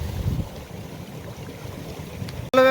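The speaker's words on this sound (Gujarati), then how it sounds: "આ ધોરિયાને ભારે કામ આવી ગયું છે, પાણી જો જાય" Irrigation water runs along a channel through a cotton field with a steady, close, broadband rushing wash throughout, ending in a brief sharp tonal burst.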